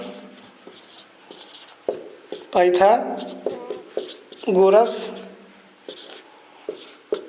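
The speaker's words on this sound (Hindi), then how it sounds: "तो यहाँ पर लिखते हैं पाइथागोरस" Strokes of writing on a board during a Class 10 trigonometry lesson come as short, close scratchy marks in scattered bursts, with someone speaking Hindi over them.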